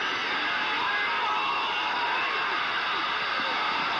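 Football stadium crowd at a Colts at Bills game, a broad, steady roar of distant massed voices holding at an even level with no breaks.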